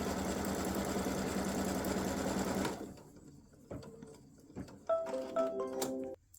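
An embroidery machine stitches horizontal and vertical placement lines with a steady, fast mechanical whir that stops abruptly after about three seconds. A few clicks, taps and short beeps follow in near-quiet.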